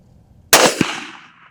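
A single loud rifle shot fired at a coyote during an eastern coyote hunt, a sharp crack with a quick echo, then a long rolling tail fading over about a second in open country.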